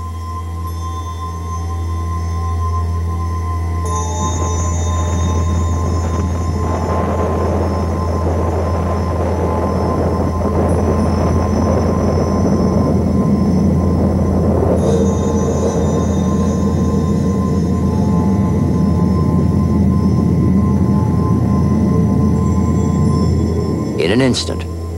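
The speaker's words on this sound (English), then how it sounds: "America sends the B-29 bomber Enola Gay over the Japanese city" A B-29 bomber in flight gives a steady, heavy engine drone that holds for the whole stretch, with voices and other sound layered over it.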